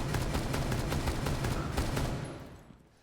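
Rapid bursts of automatic gunfire in the video game Rainbow Six Siege, a loud rattling string of shots that fades out toward the end.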